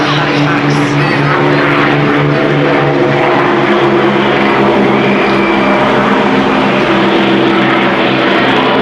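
Avro Lancaster heavy bomber of the Battle of Britain Memorial Flight passing over the Clacton airshow, a steady loud droning rumble of piston propeller engines filling the whole stretch, with faint voices mixed in.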